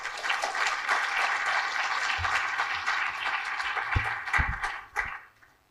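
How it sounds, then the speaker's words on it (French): Conference audience applauding to welcome a speaker to the stage, a broad, steady wash of clapping that fades out near the end, with a few louder thumps in the closing seconds. "sous vos applaudissements, merci."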